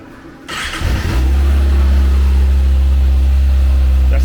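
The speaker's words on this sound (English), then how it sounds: "I'll give you a startup, the stock sound right now" Stock 2020 Kawasaki ZX6R motorcycle cold start: a brief starter whir, then the engine catches and settles into a loud, steady, close idle with a strong low drone.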